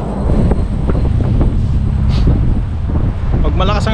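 Steady, loud wind roars across the microphone throughout during a winter storm in Canada, with a voice talking over the rushing gusts as snow blows sideways.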